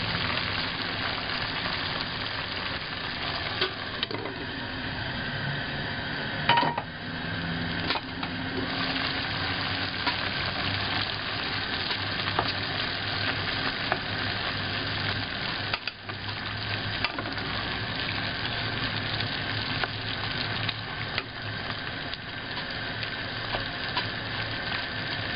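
Eel stir-frying in a pot alongside wood ear fungus, a steady, dense sizzle with scraping stirs that runs continuously and evenly throughout, close and moderately loud with no talk.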